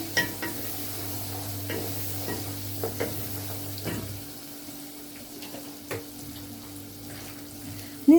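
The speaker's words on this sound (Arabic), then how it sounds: "نقلبها كده شويه." Food stirred in a frying pan with sauce, a spoon scraping in scattered strokes over a low background hum that drops away midway, with a brief clatter at the end.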